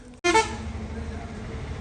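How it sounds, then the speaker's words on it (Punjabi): A bus horn blares once as the bus pulls in at a Punjab village stop, a loud, close honk that cuts off sharply and leaves the engine rumbling steadily underneath. "ਹਾਰਨ ਵੱਜ ਗਿਆ ਫਾਈਨਲੀ ਬੱਸ ਆ ਗਈ ਹੈ"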